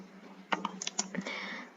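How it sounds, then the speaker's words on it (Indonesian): Typing on a computer keyboard during an Indonesian online lesson on fractions: a quick burst of several sharp key clicks in an uneven rhythm, close to the microphone and heard alone over faint room noise. "Mengetik ya teman-teman"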